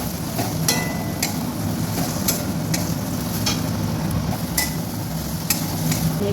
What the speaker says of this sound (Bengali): এখানে মশলা কষানো হয়ে গেছে, আমি এখানে আলু আর এঁচোড়টা দিয়ে কষিয়ে নেব।